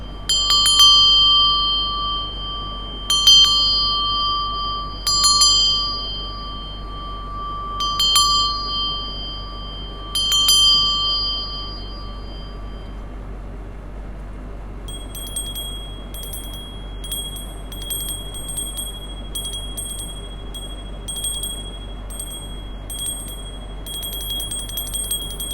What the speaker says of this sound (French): appeler la source, mes guides, tous les êtres de lumière avec ma cloche tibétaine